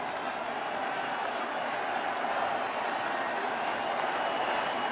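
A baseball crowd murmurs steadily at Nationals Park during a Giants vs Nationals playoff game, a faint, distant wash of voices and rustle under quiet commentary.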